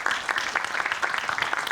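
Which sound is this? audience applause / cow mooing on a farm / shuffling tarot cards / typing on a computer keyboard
audience applause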